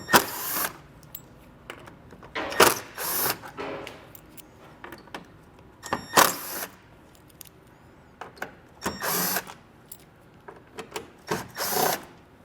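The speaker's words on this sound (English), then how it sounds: "You can use a T15 Torx bit to get them all removed." A driver fitted with a T15 Torx bit backs out fasteners near a 2023 vehicle's headlight edge during a tow base plate install, giving several short, loud bursts of whirring and clicking spaced a few seconds apart.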